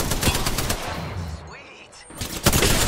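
Gunfire crackles in a battle royale video game, rapid bursts of automatic shots, loud and close, with a brief lull in the middle before firing resumes.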